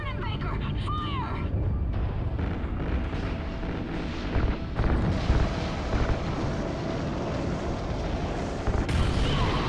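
A large explosion in the space-set video game Call of Duty: Ghosts, a sustained, roaring blast rumbling continuously at high level with a few sharper bursts, while people talk over it.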